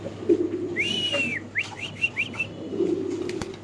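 A female Spanish pigeon coos nearby with soft low calls, and a series of brief whistling chirps sounds in between, fairly close and clear with no talking.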